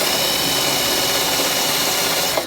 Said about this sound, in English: as you're drilling, because there is some rust